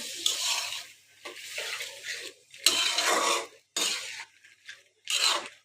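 Field bean seeds being stirred and fried with spices in a pan, for a fish and bean dish: several separate bursts of scraping and clattering from the spatula against the pan, close and fairly loud, with short pauses between strokes.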